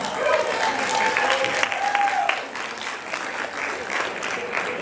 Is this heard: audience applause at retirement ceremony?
yes